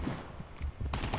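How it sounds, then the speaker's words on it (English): Pump shotgun firing in the video game Call of Duty Mobile, a couple of short, punchy blasts in quick succession, close and fairly loud with no talk. "So this is the shotgun of this game."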